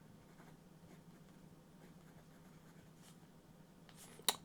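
A fine iridium-nib Pelikan fountain pen writing on paper with Pelikan 4001 blue-black ink makes a faint, steady scratchy scribble for several seconds, close and quiet, ending in a brief sharper tap.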